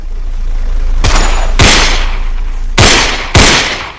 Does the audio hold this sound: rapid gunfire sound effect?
yes